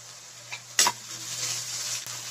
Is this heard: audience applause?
no